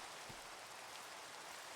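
Steady hiss of rain falling outside in the Minecraft video game, a constant soft wash of noise with no distinct drops standing out.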